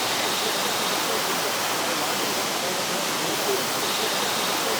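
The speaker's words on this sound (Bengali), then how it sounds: "এই হচ্ছে ওয়াটারফল, দেখতেই পাচ্ছেন একদম ভলিউমনাস, খুবই বড় সড়ো একটা ওয়াটারফল" Arshdad Falls, a large, voluminous waterfall near Cherrapunji, pours with a loud, steady roar of rushing water that fills the whole scene without pause.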